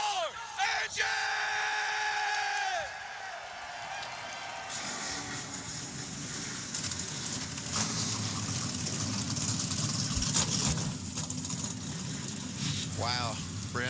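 NASCAR Craftsman Truck Series engines fire up and settle into a loud, rumbling idle at North Wilkesboro Speedway, a crowd roaring and an announcer's voice carrying over the noise.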